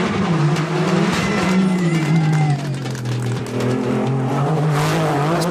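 Porsche rally cars racing at the Rallye du Rouergue 2014, a loud, continuous engine drone with shifting pitch as the cars pass close by, steady throughout with no talk.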